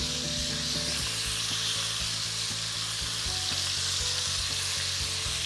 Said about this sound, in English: This is what we call the sound of a happy pan.